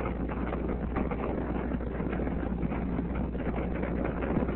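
The three main engines of Space Shuttle STS-28 roar at launch as a steady, dense, rumbling wall of noise with no breaks, heard from a distance and muffled in the low end.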